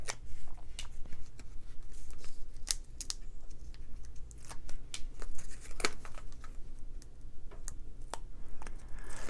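Sticky adhesive backing peels off a green card panel in a quiet room, with faint crinkling, tearing and a scatter of sharp paper clicks and snaps.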